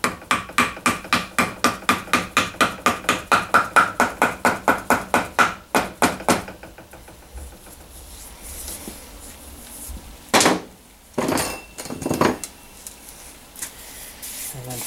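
Gentle hammer taps seating an output seal into a GM 8.25 IFS front differential housing, a quick run of about twenty evenly spaced metallic knocks, then a pause and a few scattered louder clunks.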